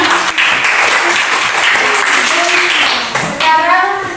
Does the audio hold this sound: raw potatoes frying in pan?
no